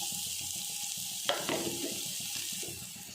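Chopped onion fries in coconut oil in a pan, with a steady close sizzle throughout and a brief clatter of stirring partway through.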